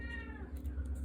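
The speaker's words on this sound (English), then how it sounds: "You can hear my cat in the background." A pet cat meows once, a drawn-out, wavering cry heard faintly in the background of a quiet room during a drawing session.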